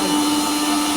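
A mixer grinder whirs loud and steady through about a second of continuous motor noise, working on dry-roasted whole garam masala spices, with no voices over it.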